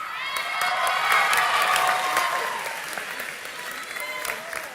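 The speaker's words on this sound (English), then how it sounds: "Let's have another little round of applause for Jacqueline Marston." Graduation ceremony audience applauding with cheers and whoops, a dense burst of clapping that swells, then fades to scattered claps.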